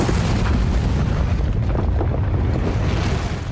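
A volcanic eruption explosion, a continuous loud, rumbling roar with dense low-end boom and broadband noise sustained throughout, with no voices.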